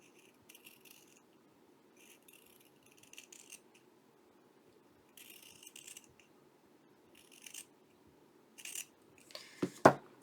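Scissors snip through paper in short bursts of crisp cutting strokes while a dreamy feminine journal is being made. The cuts are close and fairly quiet, with a sharper clack near the end.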